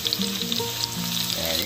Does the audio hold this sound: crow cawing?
no